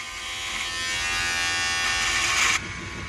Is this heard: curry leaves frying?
no